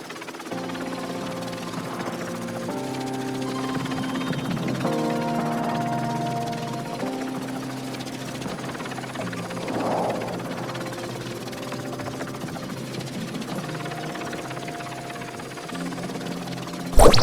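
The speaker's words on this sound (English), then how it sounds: "I'm recalling the drones." Drones in the video game Tower of Fantasy buzz and whir steadily for about seventeen seconds, a dense mechanical hum with shifting tones and a brief louder burst at the very end, with no talking.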